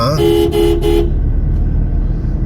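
A car horn honks in traffic near an airport in Korea, a loud blaring toot broken by two brief gaps over the first second, then fading into road and engine rumble with a voice talking underneath.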